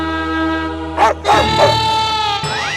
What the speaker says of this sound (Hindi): वो डोरबेल में कुत्ते की आवाज है।